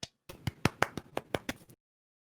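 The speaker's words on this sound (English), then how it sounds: "A small round of applause for mutually assured destruction." A small, sparse round of applause from just a few people, about nine distinct claps in a short burst, fairly close and quiet, ending abruptly into silence.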